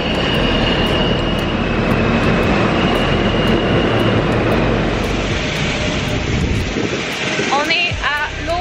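A New York City subway train rumbles loudly and steadily nearby, a broad roaring din with metallic squeals near the end.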